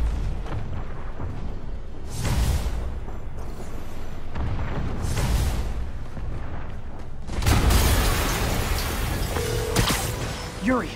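Heavy rumbling explosions in Marvel's Spider-Man roll in waves, a deep blast swelling near the end amid game effects, with a voice speaking over the roar.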